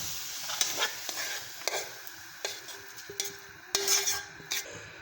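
Fried carrots for gajrela going into milk and stirred with a ladle, quiet sizzling under several clinks and scrapes of metal against the pot, close and irregular, with no speech.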